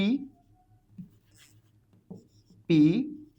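A pen or marker scratches on a board or paper in a few short strokes separated by pauses, with one longer, louder stroke near the end, all close and quiet with no talking.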